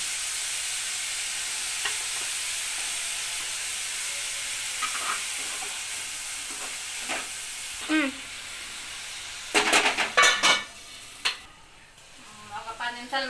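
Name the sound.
onion, green chilli and curry leaves frying in oil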